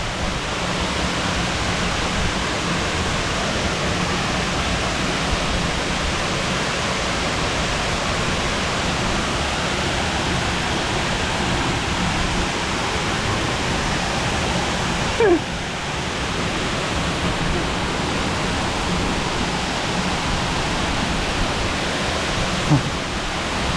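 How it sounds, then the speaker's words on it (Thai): Bang Pae waterfall roars close by as a dense, unbroken rush of falling water that stays even and loud the whole time. "นี่ คือน้ำตกบางแปครับ"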